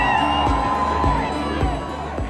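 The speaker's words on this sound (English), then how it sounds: "Not surprisingly, the crowd went wild." A large crowd cheers and whoops loudly and continuously for Prince Harry and Meghan at a public royal engagement outside a station in Brixton, London, with rhythmic low thumps running beneath the roar.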